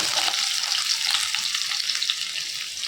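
Onion and chillies frying in a pan for masala Maggi noodles, a loud, dense, continuous sizzle heard close up with no talking.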